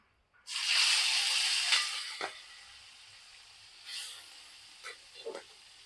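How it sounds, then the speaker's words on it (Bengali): Bitter gourd pieces are dropped into hot oil in a home kitchen and start frying with a sudden loud hiss. The sizzle then settles to a steady crackle, broken by a few softer bursts as more pieces go in. "এবার আমি একে একে করলাগুলো দিয়ে দিব।"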